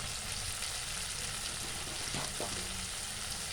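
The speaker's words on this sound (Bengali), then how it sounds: "খুব ভালোভাবে কষিয়ে নেব।" Spices with salt, turmeric and chili powder sizzle and fry steadily in oil for a cauliflower chicken curry, a continuous close hiss with a soft stirring scrape near the end.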